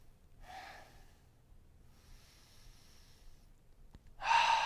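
Deep breathing during a live yoga class, a few slow, soft breaths with pauses between, ending in a louder, sharper exhale up close.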